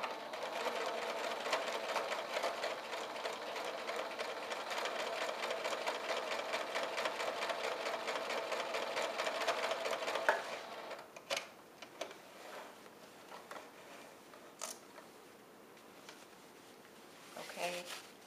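A sewing machine runs steadily for about ten seconds, stitching straight rows across elastic on a pettiskirt. It stops abruptly, then a few faint clicks and handling sounds follow.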